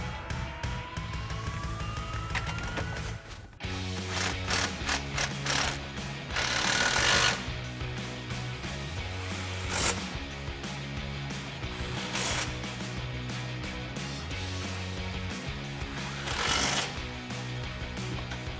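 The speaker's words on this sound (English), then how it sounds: "We're gonna grab our impact with an extension and 13mm swivel and tighten all those down." Bursts of a pneumatic impact wrench tightening Borla ATAK cat-back exhaust clamps on a 2024-2025 Mustang using an extension and 13mm swivel socket, loud close hammering rattles in several runs separated by short pauses.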